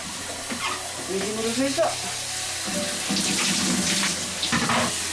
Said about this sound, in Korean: 샤워를 해드야죠